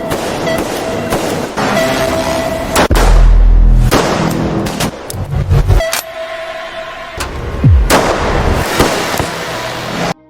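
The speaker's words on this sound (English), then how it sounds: "Darby immediately ordered his men to attack Will until a shootout occurred." Gunshots crack out in a hunter's shootout with a former special forces lumberjack, loud sharp bursts scattered over roughly ten seconds amid heavy booming action noise, with deep low thuds mixed in.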